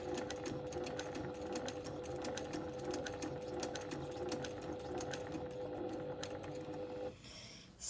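A sewing machine stitching very slowly in free-motion quilting over existing stitching, a steady close whir with fine rapid needle ticks running continuously before a brief quieter tail at the end.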